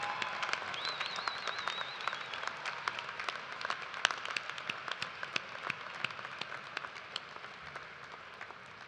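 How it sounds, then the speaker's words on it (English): Sustained applause fills a large hall at a University of Toledo commencement ceremony, an even, distant-sounding patter of many hands with scattered sharper claps and a brief whistle early on. "please join me in another round of applause"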